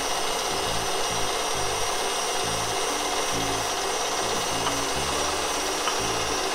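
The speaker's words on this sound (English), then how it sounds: "And you beat at medium speed until it's medium stiff." Electric hand mixer beating egg whites with sugar at medium speed for peanut kisses, a constant dense motor whir with a low churning pulse, close and steady, with no talking.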